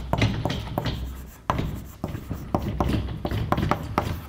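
Chalk or marker strikes a board in a physics lecture hall, a quick series of sharp taps and scratches in an irregular rhythm, close and fairly loud, with no speech.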